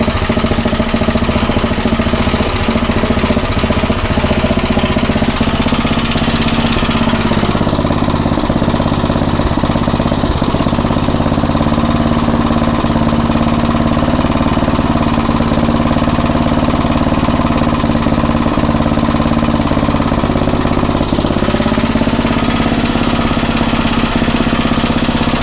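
A Craftsman rototiller's small engine, its fuel tank rusty and carburetor dirty, idles steadily for the whole stretch with a loud, close, even chugging putter and no talking over it.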